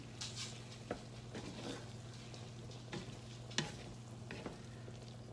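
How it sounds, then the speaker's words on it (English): Mushroom stroganoff stirred in a pan gives a soft, low sizzle with scattered scraping and tapping strokes from the utensil. The sound is quiet and close, with no one speaking. "I'm gonna stir this because this is gonna freaking burn."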